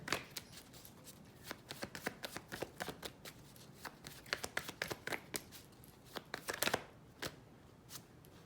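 Tarot cards being shuffled in a quiet room, a run of crisp riffling snaps and soft paper slaps in irregular bursts, fairly close and alone with no talking.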